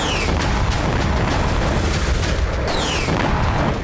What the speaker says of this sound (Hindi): वेस्ट बैंक के ही तुलकर्म में भी इजरायली सेना ने एक के बाद एक कई धमाके किए।